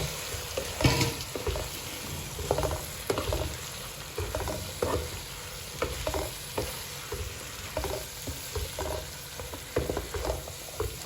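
Capsicum being stirred and fried with spices in a pan for aloo shimla mirch: continuous sizzling under repeated scraping and clattering spoon strokes in an uneven rhythm, close and steady, no speech.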